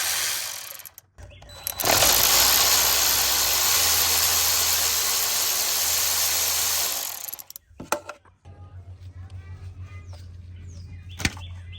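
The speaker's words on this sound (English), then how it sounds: "now we just need to remove these 4 bolts that hold that on" Ratchet working loose 8mm bolts on the 3.5 EcoBoost engine of a 2016 Ford Expedition, a sustained close whirring clatter for several seconds, then scattered clicks and metallic handling.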